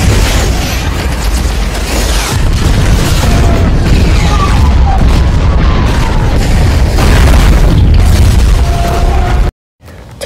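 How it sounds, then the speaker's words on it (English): Stop-motion missile launches and explosions in a superhero battle scene, with loud continuous booms and blasts layered densely for about nine seconds before cutting briefly to silence near the end. "Fire the missiles!"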